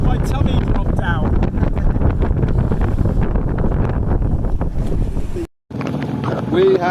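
Sailboat motoring out of Yarmouth, a steady low engine drone and hull rumble mixed with heavy wind buffeting on the microphone, with a brief dropout near the end.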